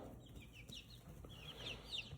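Backyard chickens clucking softly in short, scattered calls over a steady low background hum, close by and with no talk.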